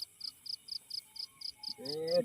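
Crickets chirp at night in a steady, evenly spaced rhythm of about ten bursts, near and clear, while a voice speaks briefly at the end.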